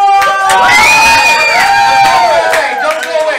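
A crowd at a live game-show event cheers loudly and steadily for a few seconds, the shouts and whoops blending into one continuous roar with tonal sounds sliding above it.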